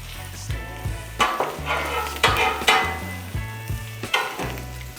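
Ham steak sizzling on a Blackstone griddle, a constant bright hiss broken by repeated spatula scrapes and clanks against the metal surface, close and fairly loud.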